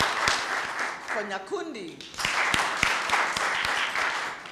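Audience clapping for graduates at a completion celebration summit, a broad wash of applause filling the clip with a voice calling out a name partway through.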